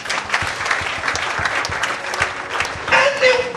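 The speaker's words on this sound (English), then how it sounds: "Clap for Jesus." A church congregation claps for Jesus during a sermon, brisk dense applause throughout with shouted voices rising over it toward the end.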